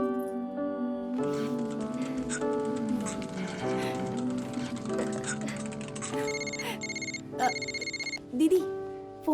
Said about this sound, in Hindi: दीदी फोन।